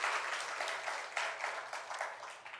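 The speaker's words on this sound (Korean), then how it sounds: "우리 하나님께 영광의 박수 올려드리겠습니다." A church congregation applauds together during a Sunday worship service, steady clapping sustained throughout with a few stronger swells, moderately distant and fairly soft.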